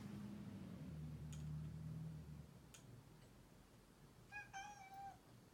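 A faint cat meows a couple of times near the end, after a low hum and a few soft ticks over a quiet background.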